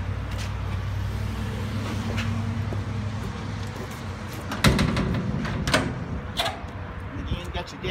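The passenger-side escape door on a 20-foot Pro-Line gooseneck livestock trailer gives a sharp metallic clank partway through, followed by a few smaller knocks. Someone talks throughout and traffic hums faintly behind.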